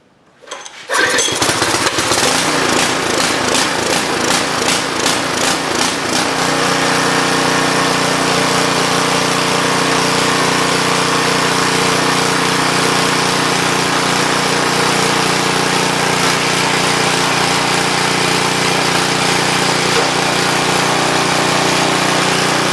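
An old rototiller engine catches after a pull-cord start, sputtering unevenly at first and then settling into a steady, loud, close running clatter that continues alone without talking.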